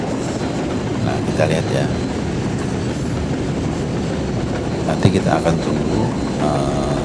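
A cargo freight train rolls past on railway track near a junction, with continuous rumbling, rhythmic clickety-clack of wheels and occasional faint squeals, while someone talks over it.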